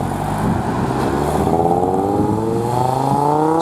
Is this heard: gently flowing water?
no